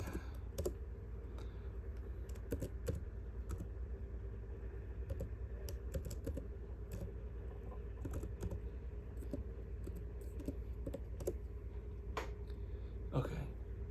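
Rapid, steady typing on a laptop keyboard while entering terminal commands, close and continuous clicking of keys with irregular rhythm and occasional louder strokes, no talking.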